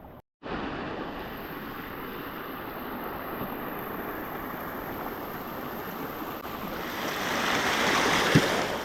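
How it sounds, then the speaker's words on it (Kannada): A small stream near Linganamakki Dam, Karnataka, rushes in a steady, full roar close by, swelling slightly near the end. "ಈ ಹೊಳೆ ಕ್ರಾಸ್ ಮಾಡ್ಬೇಕಷ್ಟೆ ಚಿಕ್ಕ ಹೊಳೆ"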